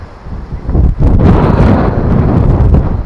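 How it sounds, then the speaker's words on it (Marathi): Strong wind blowing across the open hilltop of Pratapgad fort, a loud, steady roar buffeting the microphone throughout with a brief dip near the start. "असं परिसर वाऱ्याचा आवाज येतो."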